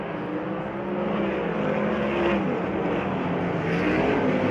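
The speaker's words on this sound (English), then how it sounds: "97 car just blew around the outside" A USAC Silver Crown race car engine roars at Belleville as cars race past, a loud sustained drone with rising and falling pitch and no talk over it.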